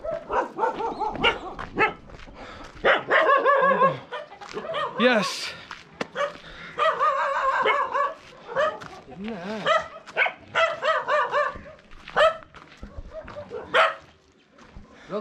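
A dog barks repeatedly in short bursts at another dog near a waterfall trek, loud and close, with people talking between and over the barks.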